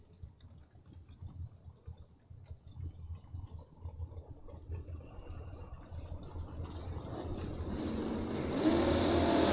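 Drag race launch at a bracket racing event, a Chevy S10 against a Camaro on the strip: engines idle and rumble, then the roar builds steadily into loud, rising acceleration that swells near the end.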